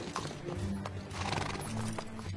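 A mare whinnies and snorts while hooves clip-clop steadily nearby in a dubbed Three Musketeers film scene, set against a dense background of street bustle.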